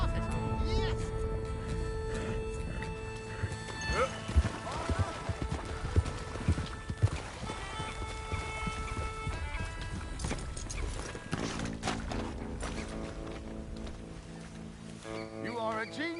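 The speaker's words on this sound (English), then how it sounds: "No, but I can ride a horse." In Red Dead Redemption 2, a horse gallops with a steady rhythmic clip-clop of hooves and an occasional whinny. The hoofbeats sit close but fairly quiet beneath ongoing conversation and game music.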